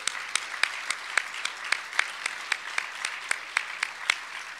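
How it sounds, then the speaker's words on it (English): Audience clapping at an Illinois bicentennial kickoff event, a sparse, moderately close round of applause with a few distinct sharp claps standing out in a loose rhythm. "Let's have a round of applause for their all great work"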